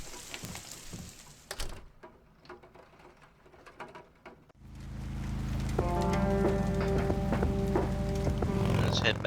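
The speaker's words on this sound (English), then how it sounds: "Time to head out in the rain." Rain in the Kathy Rain video game, starting suddenly halfway through as a steady loud wash of falling rain, joined by a looping tonal music bed, after a quieter stretch of scattered clicks and small sounds.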